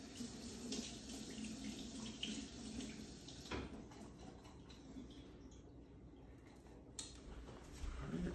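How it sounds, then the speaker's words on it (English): Tap water runs steadily into a sink while an espresso portafilter is rinsed, a continuous close splashing that briefly changes as the piece is moved under the stream. "And then I'm just going to rinse the portafilter."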